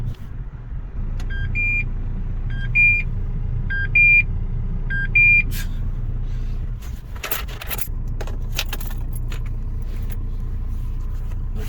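A Renault Espace 4 gives four evenly spaced key card warning beeps from inside the car over a low hum. Then come a sharp click and several seconds of keys jangling and handling noise.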